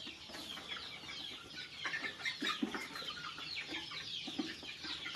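Country chicken chicks on a small farm cluck and peep steadily, a busy brood of about two dozen birds heard close by with no talking.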